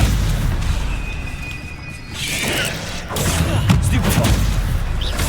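Hogwarts Legacy spellcasting in combat produces loud magical bursts, whooshes and impacts, with a sharp swirl near the middle and a denser flurry of blasts toward the end.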